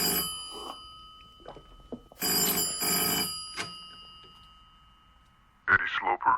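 A telephone bell ringing in a radio drama, sounding in several separated bursts of bright metallic trilling with quiet gaps and faint voices between them.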